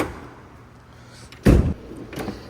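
A drawer on a Macsmizer double-bank 66x27 tool box slides open with a short, loud rolling rush, followed by a softer rattle of tools settling, recorded up close with no talking.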